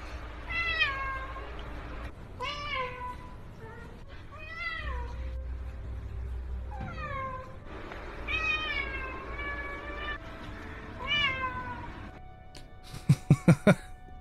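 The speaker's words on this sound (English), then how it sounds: "Cat that makes a noise every time you pick it up." A cat in the video game Anarchy Online meows repeatedly when picked up, about seven drawn-out, rising-and-falling calls spaced a second or two apart, ending with a few quick sharp clicks.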